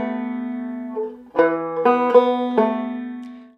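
Banjo picking the opening bar of the Irish tune Road to Lisdoonvarna in a crotchet-quaver rhythm, a few bright plucked notes with ringing sustain, played alone and close.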